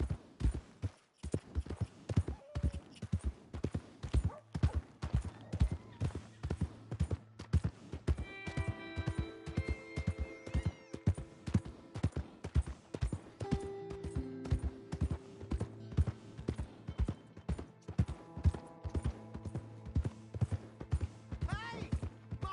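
Galloping horse hooves in Red Dead Redemption 2 pound out a steady, rapid rhythm up close for the whole stretch, with a low throbbing and a few brief game sounds layered on top, and no talking.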